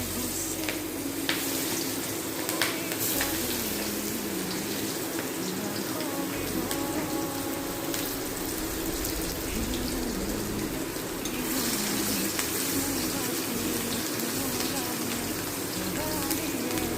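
Chopped onion goes into a hot pan of oil after frying fish for a fish curry, giving a continuous close sizzle and crackle with faint clinks and stirring throughout.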